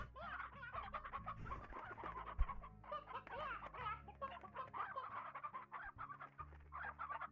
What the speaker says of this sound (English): I have a lot of hens. Got a lot of elderly hens too.